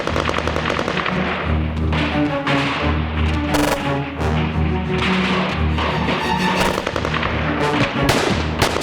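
Dense, continuous gunfire with machine-gun bursts pours on a building under assault as a fire subgroup suppresses defensive fire nests, the shots loud and near with no pause across the clip, a brief sharp blast standing out midway.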